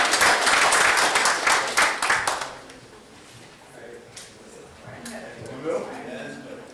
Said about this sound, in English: Another round of applause for our two Gold Apple recipients